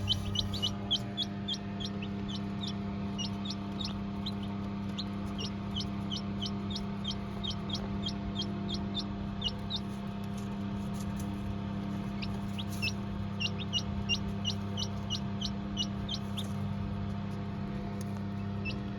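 High, thin peeping of newly hatched chicks, repeated in rapid clusters over the steady low hum of the hatching machine.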